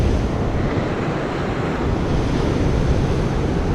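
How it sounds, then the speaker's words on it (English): Intense shore waves from a king tide and south shore swell, a continuous loud roar of surf with wind buffeting the microphone and no distinct breaks, no one talking. "With the king tide and the south shore swell, it's pretty, the waves are pretty intense."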